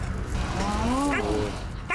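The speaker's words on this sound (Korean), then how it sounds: "어딘가에 도착하자 또 짖기 시작합니다." A dog on a walk barks and whines at trash on the ground, the yips and whimpers rising and falling close by among people talking and outdoor background noise.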